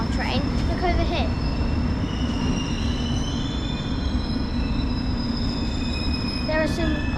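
A London Underground Metropolitan line train pulls into a station, its low rolling rumble steady beneath high thin wheel squeals and brake whines that rise at the start and again near the end, loud and close on the platform.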